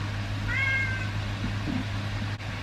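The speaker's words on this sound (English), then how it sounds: "What's my cat doing?" A house cat gives one short, clear meow close by, heard alone over a steady low hum in a quiet indoor room.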